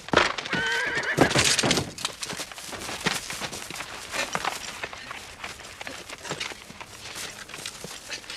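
A horse whinnies loudly and shrilly, then hooves clop and scuffle unevenly in the background as the animal moves about.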